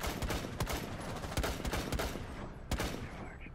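Gunfire in the tactical shooter Rainbow Six Siege, a rapid series of sharp close shots in uneven bursts, loud and punchy, with one more isolated crack near the end.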